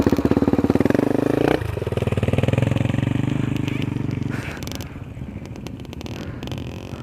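A motocross motorcycle engine revs hard on a trail, loud and close with a rapid pulsing putter that rises and eases off as the bike moves away.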